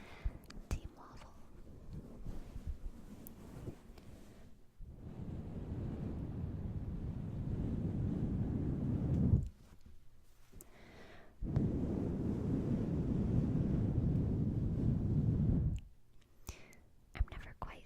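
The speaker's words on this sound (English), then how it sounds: "I'm never quite sure if I'm blowing in the right place whenever I do that" Close breathy gusts of air blown straight into a sensitive microphone, two long roaring bursts separated by quieter pauses, with soft whispering at the start and end.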